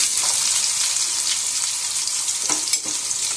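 Garlic, onion and cumin frying in hot oil for fried rice, a dense, loud, close crackling sizzle throughout with a couple of faint stirring scrapes near the end.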